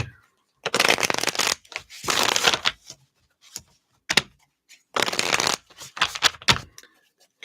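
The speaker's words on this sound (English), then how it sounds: "Okay, and shuffle these up." Tarot cards shuffled by hand in several bursts of riffling and flicking, with short pauses between, close and fairly loud with no talking.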